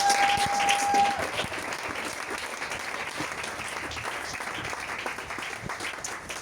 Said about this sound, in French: Bien-aimé, acclame Jésus